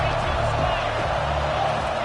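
A football stadium crowd roars for the defense on a big third down, a dense continuous wall of cheering under a commentator's voice.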